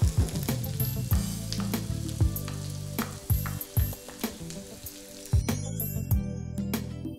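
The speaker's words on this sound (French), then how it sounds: "On va faire revenir dans de l'huile chaude l'oignon et l'ail émincé." Sliced onion and garlic frying in hot oil in a pan, a loud steady sizzle broken by repeated stirring scrapes and knocks, close up with no talk.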